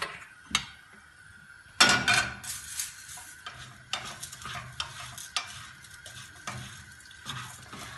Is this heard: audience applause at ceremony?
no